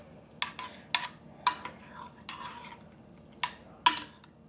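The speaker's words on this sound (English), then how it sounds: "Give them a good stir" Utensil scraping and clinking against a microwave cooking dish as egg fried rice is stirred, a few sharp clanks and scrapes spread unevenly over a few seconds, close up.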